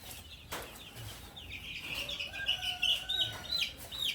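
A male Wyandotte chicken kept in a backyard flock makes a few short, fairly close calls and clucks, with other birds chirping faintly around it.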